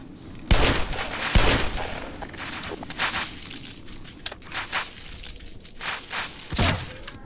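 Gunfire in the video game Black Mesa on the alien world Xen: a few loud, sharp bursts stand out against a busy layer of game noise and smaller crackling impacts throughout.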